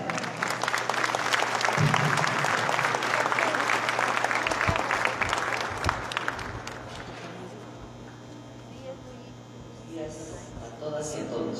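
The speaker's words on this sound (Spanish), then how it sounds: "Fuerte el aplauso." Audience applause at an education conference, loud dense clapping for about six seconds that then fades into quieter room noise and scattered sounds.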